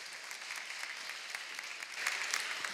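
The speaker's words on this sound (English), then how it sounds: "let's give her a lovely warm round of applause as our first speaker" A warm round of applause from a seminar audience welcoming the first speaker of a LinkedIn talk, steady and fairly faint clapping from a modest crowd that swells slightly toward the end.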